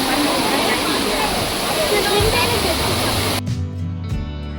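Ranajilleda waterfall at Araku roars as a loud, dense, continuous rush of falling water, then cuts off abruptly near the end, leaving a low steady hum.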